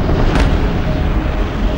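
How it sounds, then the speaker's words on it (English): The Krakatau volcanic eruption as a loud, deep, sustained roaring rumble with a brief crackling burst near the start and no voices. "From its depths comes a shattering blast"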